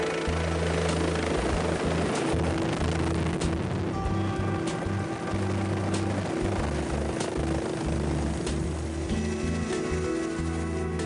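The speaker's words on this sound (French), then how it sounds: "l'hélicoptère refait son apparition" Medical rescue helicopter reappearing at the foot of a ski station, its rotor thumping steadily with a droning turbine whine, loud and continuous throughout with no voices.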